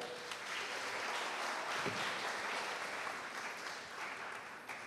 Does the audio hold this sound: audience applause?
yes